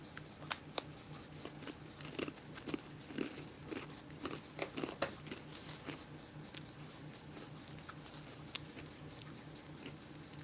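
Repeated close biting and crunching of salty crackers from a 2021 French ration menu, a long series of irregular sharp crunches and chewing clicks, fairly quiet and with no talk.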